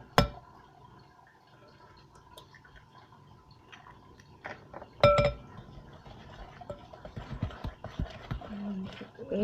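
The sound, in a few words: beating an egg into creamed butter and sugar in a bowl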